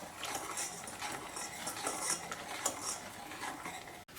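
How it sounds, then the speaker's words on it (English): A spoon scrapes and clinks steadily against a bowl while pudding mix is stirred into milk; quiet, close and continuous, with no talking. "And you can keep stirring,"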